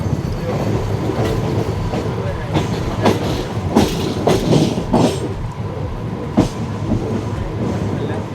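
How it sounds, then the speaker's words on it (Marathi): A Mumbai fast local train pulling out of Kalyan junction, heard from on board as a loud rolling rumble with rhythmic clacks and bangs over track joints and points. "तर ट्रेन आता कल्याण जंक्शनवरून निघाली आहे."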